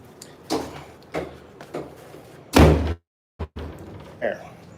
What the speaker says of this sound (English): shut that door right now